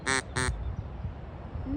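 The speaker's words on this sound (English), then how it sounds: "I'm calling the ducks." Two loud, close duck quacks come in quick succession at the start, followed by a low outdoor rumble with no further calls.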